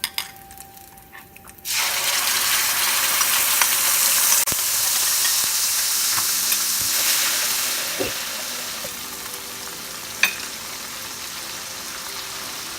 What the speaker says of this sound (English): Now I will add here cumin seeds, dry red chili and ginger paste.